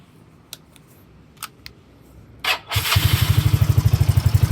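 A motorcycle is started after a few clicks of the key. Its engine then settles into a loud, rapid, rattling idle with an evenly pulsing beat.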